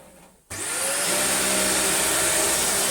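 A Dyson DC40 vacuum cleaner switches on after a short quiet moment, its motor whining up to a loud, steady, close roar that holds to the end.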